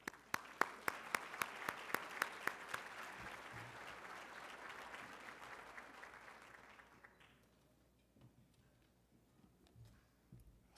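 An event audience applauding to welcome a speaker to the stage, steady clapping from a crowd with a few sharp nearby claps at the start, fading out after about seven seconds.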